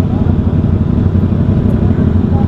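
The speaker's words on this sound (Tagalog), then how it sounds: "Pogi ng tunog ng motor nila" Deep, loud rumble of a big motorcycle engine idling close by, a continuous throaty low growl.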